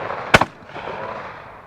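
A single shotgun shot at a trap clay target rings out at a sporting clays championship, a sharp crack followed by a quick echo, then fading outdoor ambience.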